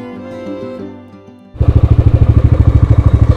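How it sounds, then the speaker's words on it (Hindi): A motorcycle engine on the mountain road from Gilgit to Astore Valley starts up loud and close after a short tonal hum, then runs with a strong, rapid pulsing throb. "कुछ मोटरसाइकिल सवार यहाँ पर खड़े हैं"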